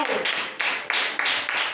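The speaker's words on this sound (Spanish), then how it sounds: "Vamos a dar un aplauso al Señor" A church congregation applauding the Lord, with rhythmic group clapping in even bursts about every 0.3 seconds, steady and fairly close.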